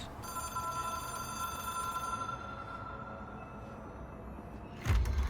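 An old-fashioned telephone bell rings steadily in the video game Control, a continuous metallic trill over a low rumble that cuts off near the end with a heavier thump.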